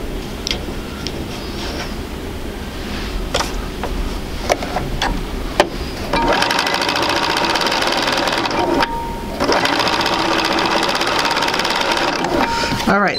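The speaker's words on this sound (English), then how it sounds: "So we'll go ahead and sew this one." A sewing machine stitches quilt pieces for an intermediate sampler quilt, its steady whirring run starting after a few seconds of small handling clicks, pausing briefly, then resuming loud and close.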